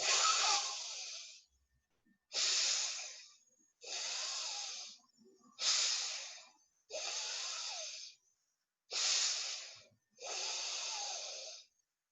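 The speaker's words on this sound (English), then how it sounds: "First exhale from the right side, then inhale." Slow pranayama breathing through a single nostril during yoga practice: seven long, close, airy breaths in steady alternation of exhale and inhale, each a couple of seconds, separated by brief silences.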